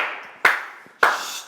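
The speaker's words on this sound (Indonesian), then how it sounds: "Kamu tuh lo ngapain sih tepuk tangan?" Two sharp, close hand claps ring out about half a second apart in a quiet room, each decaying briefly.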